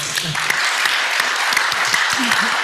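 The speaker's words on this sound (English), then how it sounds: "How about a round of applause?" A small audience claps in brisk, close applause with a few sharp individual claps, while voices speak over it.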